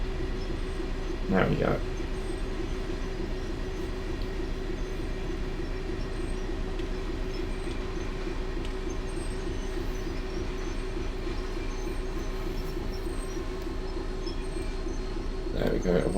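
A diesel freight train in Train Sim World, a cement service on the Great Western Express line, slows down with a steady low engine and rail rumble. Short squeals rise near the start and end, and someone speaks briefly.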